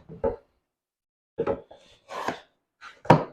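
A Roughneck knife with a hybrid grind carves chunks off material in four short, scraping cuts, each a brief rasping burst separated by quiet pauses.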